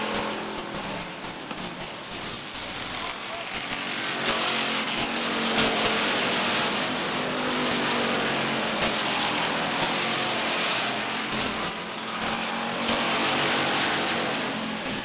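Limited sportsman race cars roaring around Beech Ridge Motor Speedway on the final lap, a dense, loud engine roar that swells and fades as the pack passes, with no talk.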